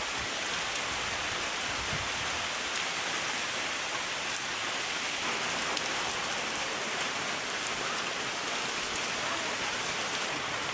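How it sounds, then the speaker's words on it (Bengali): Heavy rain pours steadily in Bangladesh, a dense unbroken hiss of drops on surfaces that stays loud and even throughout with no voices. "তো আজকে পর্যাপ্ত পরিমাণ বৃষ্টি হইতেছে।"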